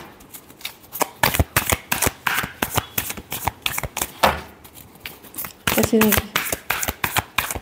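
Tarot cards riffled and shuffled for a Gemini weekly reading, a run of quick crisp flutters and taps in bursts, close by, with a voice briefly talking between them.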